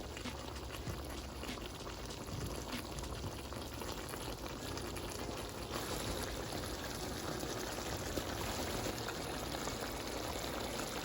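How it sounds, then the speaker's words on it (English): Beef and broccoli sauce pours along the edges of a hot pan and sizzles into a steady, continuous bubbling hiss that holds evenly throughout, close and moderately loud, with no talk. "And just all along the edges is where you want to pour it."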